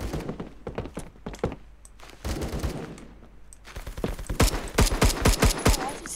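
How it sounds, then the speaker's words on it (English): Burst assault rifle in the Phantom Forces shooter game, firing in quick repeated bursts of sharp, close shots, heavy toward the end, with louder clusters over the final two seconds. "Time to check out this burst AR in action."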